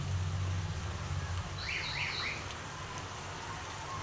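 Coconut and nut snacks sizzle and crackle steadily in very hot oil, a dense, close frying hiss with a low hum early on and a faint chirping tone midway.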